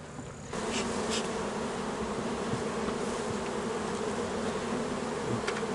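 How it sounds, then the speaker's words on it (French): Buckfast honey bees, a breed from Buckfast in Devon, buzz in a dense, continuous drone that starts abruptly and holds steady and fairly loud, with no voices. "Cette abeille, créée à Buckfast, dans le Devon, c'est la plus grande abeille de la planète."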